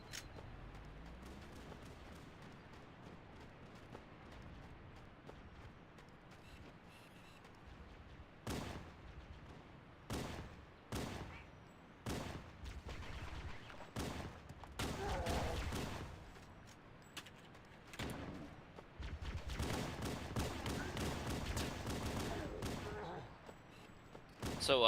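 Magnum pistol held on full auto in Halo: Combat Evolved, letting off repeated loud bursts of rapid gunfire with short gaps between them, while people talk over the shooting.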